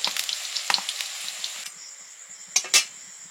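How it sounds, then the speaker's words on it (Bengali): Kulekhara leaf chops sizzling in a pan of oil, a steady close crackle with a few sharper pops near the end and no voices. "ভাজাগুলো শেষ। কুলেখাড়া চপ ভাজা হয়ে গেল।"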